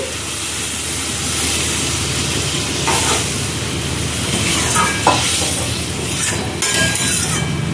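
Water poured into butter chicken in a hot pan sets off a loud, continuous hissing sizzle close by, with bursts of steam and occasional scrapes, no talking.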